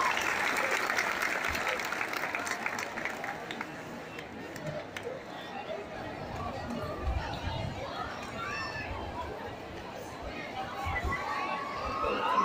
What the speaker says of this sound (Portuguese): eu peço uma salva de palmas para esse homem, José Romão dos Santos